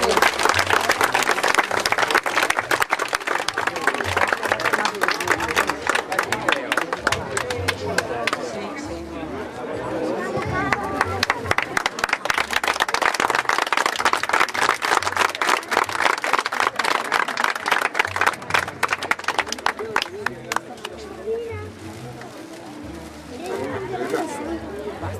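Long, strong applause from a gathered crowd at a memorial event in Jesolo, sharp close claps sustained for over twenty seconds with chatter mixed in and a brief dip before it picks up again.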